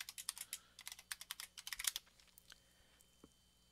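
Rapid keystrokes on a computer keyboard as a password is typed, a quick run of crisp, close clicks for about two seconds, then a few slower isolated taps tapering off.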